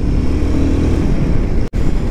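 Loud, steady engine rumble and wind roar from a Royal Enfield Himalayan adventure touring motorcycle on the move, broken by a brief dropout near the end.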